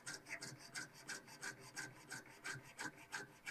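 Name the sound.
sawing into wood to cut Mudhorn emblem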